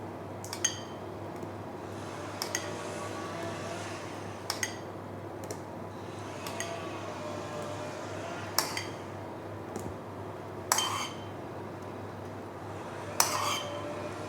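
A spoon scraping and clinking against a bowl as twelve tablespoons of a melted ingredient go in for an easy cake. The sharp metallic taps are spaced irregularly over a quiet, steady background hum.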